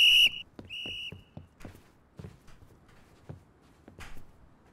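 A sharp referee-style whistle blast signals the start of a Turkish outdoor competition, followed by scattered thuds and footsteps in a quiet open space.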